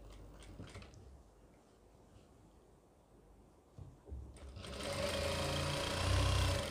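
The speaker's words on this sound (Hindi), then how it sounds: "सिलाई लगा देंगे यहाँ से।" A sewing machine stitches an Afghani salwar, with quiet handling of cloth first, then a burst of fast, whirring stitching that grows louder toward the end, close by.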